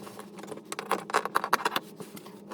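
Scissors snip through fabric while cutting out circles for proddy rug-hooked sunflowers, a quiet close series of short crisp cuts in an irregular rhythm.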